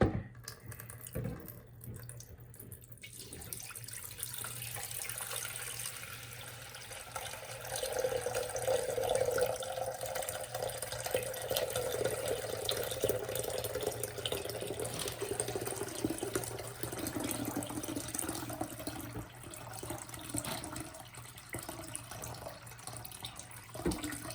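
Warm and cold water pour at the same time into the two sides of a small convection tank model, a faint, steady trickling and gurgling that rises in the middle and keeps going at low volume.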